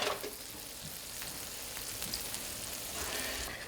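French toast frying on very low heat in a pan, a soft, steady sizzle with faint crackles running close and quiet throughout, with no talking.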